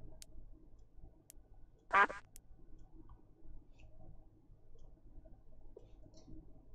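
Single brief duck quack from a Minecraft map, a clear blip around two seconds in over low, steady game ambience with no talking.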